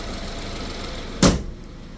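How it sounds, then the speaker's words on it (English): A BMW X1's hood slams shut once with a single loud, close thud over a steady idling engine hum, and the engine keeps running quietly afterward. "let me shut this hood"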